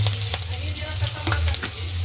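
Green chillies fry in very hot oil, giving a continuous crackling sizzle with sharp pops and spatters throughout, close and loud, with no talk.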